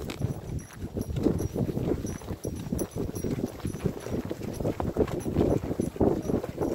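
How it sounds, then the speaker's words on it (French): A horse trots on a riding outing, its hooves beating a steady, close clip-clop rhythm throughout, with a faint high whine in the background. "Et on repart un peu au trot."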